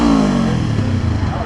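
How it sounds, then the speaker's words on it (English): A motorcycle exhaust revs close by in a loud, throaty drone whose pitch shifts as the engine climbs and settles. "What do you think of the exhaust? I like it. It's a nice sound."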